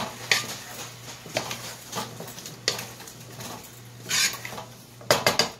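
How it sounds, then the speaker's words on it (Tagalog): Vegetables and pork belly stirred in a cooking pot for a Filipino ginisang gulay, giving scraping clatters of a utensil against the pot in irregular bursts, nearby and fairly loud, with a few quick rattles near the end. "Haluin muna natin."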